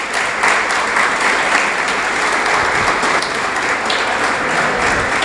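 An audience at a sports management and law panel gives sustained, even applause to welcome the speakers, a full dense clapping that fills the room without a break.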